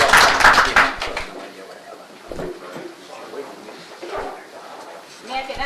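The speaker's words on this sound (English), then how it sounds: "Just give them another round of applause." A brief burst of applause from the audience at a city commission meeting, strong clapping for a second or so that quickly fades into murmured talk and scattered small sounds.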